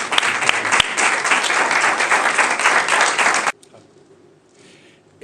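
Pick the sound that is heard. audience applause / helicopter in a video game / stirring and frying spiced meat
audience applause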